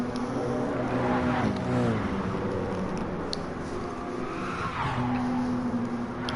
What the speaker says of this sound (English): Tyres squealing in protest for a little bit further back.